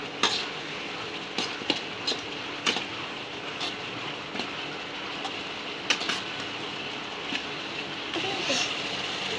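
Masala being stirred in a cooking pan, with scattered light scraping and tapping clicks of a spoon against the pan over a steady sizzling hiss, irregular and fairly close.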